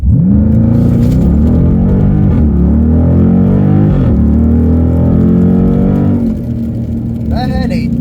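A car launches at full throttle during a tire test, its engine note climbing hard and loud with distorted, strained tone as the tires slip, then easing near the end.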